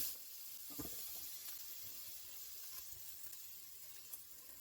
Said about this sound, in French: Et on va commencer à faire cuire nos boulettes